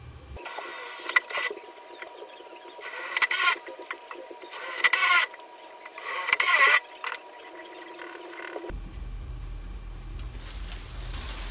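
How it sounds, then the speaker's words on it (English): An electric drill bores holes in metal for a GPU mining rig frame, four loud whining bursts of a second or so each separated by pauses, followed by a steadier low hum. "Now I'm gonna go ahead and drill them."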